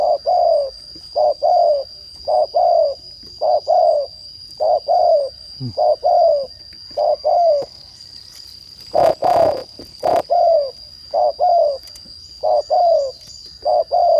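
Soft, low cooing calls from a spotted dove repeat in short phrases with brief pauses, alongside a steady high insect-like whine and a burst of broadband noise partway through.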